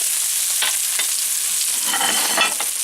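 Steak searing in a very hot pan, giving a steady, close, loud sizzle that runs unbroken throughout, with a few brief stirring scrapes and no talking.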